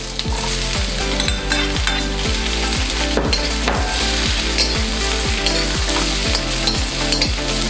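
Peppers tossed into onions already browning in a pan for chicken jalfrezi, a loud steady sizzle with a regular scraping stir roughly every half second, close and continuous with no talk.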